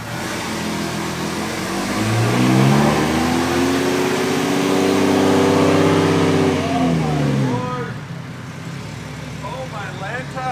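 A car fitted with a swapped 2JZ engine revs up loudly, the pitch climbing and holding, then falls back to idle; voices are audible at the end.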